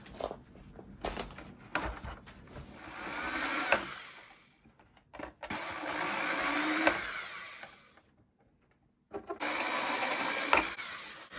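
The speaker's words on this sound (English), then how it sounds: "We're just going to drill those holes real quick." A power drill whirs in three sustained bursts separated by short pauses, boring holes for body mounts on an Element Gatekeeper build, with clicks and handling knocks between runs, close by.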